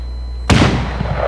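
A single firework shell bursts in the FWsim fireworks simulator game: after a brief quiet hum, one sharp, loud bang, followed by a fading rumble and crackle.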